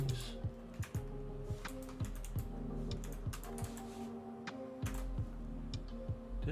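Someone types on a computer keyboard, with a quick irregular clatter of close, crisp key presses and occasional pauses, quiet and without talk.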